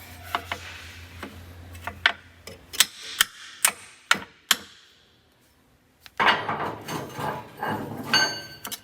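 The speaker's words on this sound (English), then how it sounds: "I'll just put the tool up here where I can hit it with a hammer" A hammer strikes a socket tool seated on a cut-wire oxygen sensor of a cheap Land Rover: about a dozen sharp metallic taps in an uneven rhythm, a short pause, then a denser burst of clanking and rattling.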